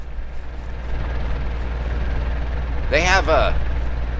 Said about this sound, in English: Listen to these cars.